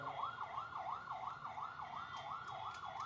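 An ambulance siren wails in a steady, rising-and-falling electronic sweep at a street rally in Salem, Tamil Nadu, loud and continuous over crowd murmur.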